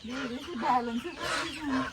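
Chickens cluck and squawk close by at feeding time in a short, busy burst of calls.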